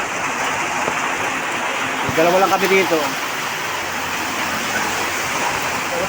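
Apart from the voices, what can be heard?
heavy rain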